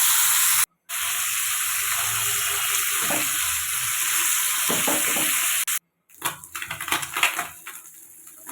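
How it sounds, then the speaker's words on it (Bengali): Moorola sea fish frying sizzles and hisses steadily in a pan, interrupted by two brief cuts, followed by clattering, stirring and crackling. "সব মাছ দিয়ে দিলাম ভালো করে ভেজে নেবো আমি মাছগুলো"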